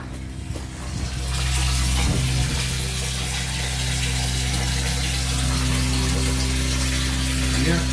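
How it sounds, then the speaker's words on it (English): A solar water pump starts after about a second and settles into a loud, continuous hum with rushing water and a steady mechanical drone that runs unbroken to the end. "water pump sounds like it's starting."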